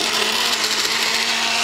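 A kitchen chopper with stainless steel knife blades screwed on whirs loudly and steadily, a dense high motor roar with a constant hum underneath, running uninterrupted and close.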